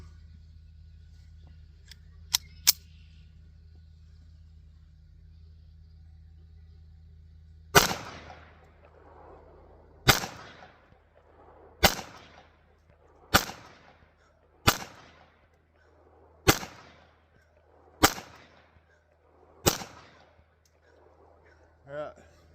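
A Versa .380 handgun fires about eight shots at a range, sharp loud cracks with echoing tails coming every second or two after a couple of small clicks and a quiet stretch, over a low steady hum.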